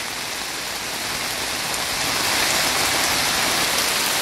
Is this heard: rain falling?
yes